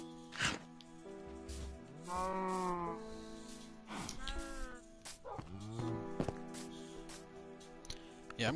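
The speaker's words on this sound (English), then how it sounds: "Let's try to get these cows back." Cows in the game Minecraft make several drawn-out, wavering lowing calls one after another, fairly close, with small clicks between them.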